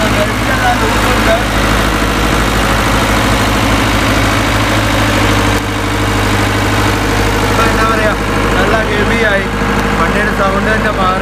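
An Ashok Leyland bus diesel engine idles loudly after a cold start, with a steady low throbbing rumble and clattering vibration that holds throughout, close and dominant, with faint voices in the background.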